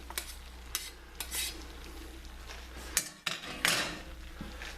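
A utensil stirs Israeli couscous and chicken together in a pot, giving intermittent scraping clinks and clatters against the metal over a faint background hum, close and with no talking.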